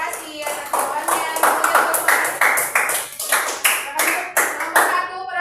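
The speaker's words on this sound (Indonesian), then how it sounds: "Kita beri tepuk tangan untuk kelompok 2." A classroom group of teachers at a school ICT training session claps in rhythmic bursts, close and lively, with a few voices mixed in among the applause.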